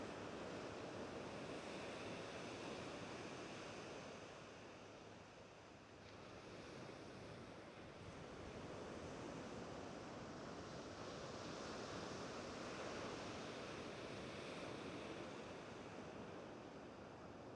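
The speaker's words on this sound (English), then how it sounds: "the waves are hitting it still" Ocean waves wash onto a shingle beach at Slapton in February in a continuous steady roar that swells and eases slightly, heard at moderate distance without talk.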